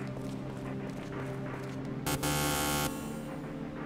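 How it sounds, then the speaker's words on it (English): A loud buzzer sounds at a door in the video game Shadow Hearts: From the New World, a steady harsh tone of under a second that cuts in over the game's background music partway through. "Oh, that's a loud buzzer."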